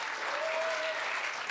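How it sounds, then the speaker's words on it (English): Steady applause from a live audience at a history-themed event honoring Dr. Ben Carson, an even, continuous wash of clapping with a faint sustained tone running through the middle. "One more round of applause for Dr."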